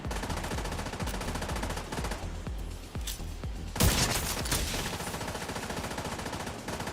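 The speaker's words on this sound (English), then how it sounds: "Damn, shooting me through cover." Rapid automatic gunfire from The Division 2 zombie-like game mode, with sustained bursts of rounds, a loud boom midway, and continuous dense shooting throughout.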